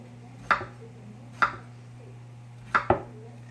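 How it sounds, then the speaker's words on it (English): Knife slicing through zucchini in a home kitchen, four crisp cuts at uneven intervals, the last two close together, over a steady low background hum. "That's a lot of zucchini and I'm not even done. So I'm going to keep slicing."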